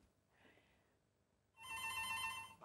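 A telephone rings in a single loud bright electronic burst after a short quiet pause, heard alone with no talking.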